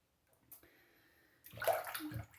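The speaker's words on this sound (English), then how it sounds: "Let me rinse up here." Running water rinsing a razor at a sink, beginning as a faint hum and then rising into a short, moderately loud splashing rush that lasts about a second before fading.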